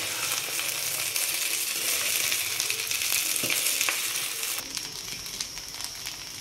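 Egg fried rice being stirred and tossed in a hot pan, a steady loud sizzle with scraping stirs throughout, close up and alone with no talk.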